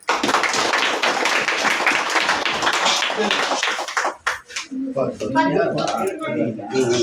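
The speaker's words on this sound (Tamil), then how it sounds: "கைத்தட்டுங்க" An audience at a charity trust event claps loudly in a dense, sustained round that fades out midway, after which someone speaks over a quieter room.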